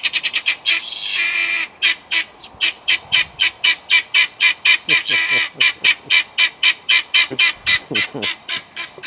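Guinea fowl kept as livestock squawk in a loud, rapid train of harsh repeated calls, nearly continuous and close by, with no talk over them.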